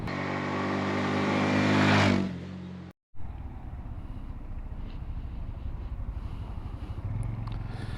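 A 2022 Honda Super Cub C125 ridden through town, its small engine droning loudly for two seconds before easing off, then a brief dropout and steady road and wind rumble with the engine ticking along underneath.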